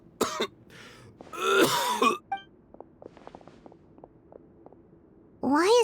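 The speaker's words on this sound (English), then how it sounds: "Why is he coughing so much?" A character in the video game Genshin Impact coughs and clears his throat in several harsh, close bursts, separated by quiet stretches with faint footsteps, and a final cough at the end.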